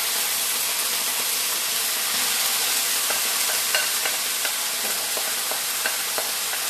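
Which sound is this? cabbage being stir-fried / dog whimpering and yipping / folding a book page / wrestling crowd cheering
cabbage being stir-fried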